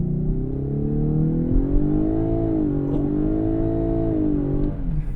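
A Lexus LS 500h hybrid engine with a CVT holds a steady, elevated rev with a droning, rising and falling tone for several seconds, close and loud, before easing off at the end.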